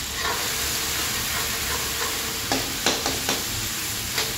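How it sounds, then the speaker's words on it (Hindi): Tomatoes fry with spices in a pan over a medium gas flame for a cabbage curry, giving a steady loud sizzle with a few sharp spoon-stirring knocks toward the end. "टमाटर मेरे अच्छे से पकेंगे तब तक, और हमें मीडियम गैस करनी है"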